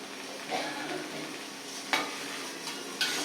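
Sliced snake gourd being sautéed and stirred in a pan gives a steady soft sizzle, with a few light scrapes and taps from the spoon against the pan.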